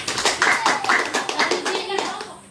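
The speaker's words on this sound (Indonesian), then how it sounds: "tepuk tangan untuk Jenggot" Children in a classroom clap their hands in a short burst of rhythmic, fairly close claps, with a few young voices mixed in.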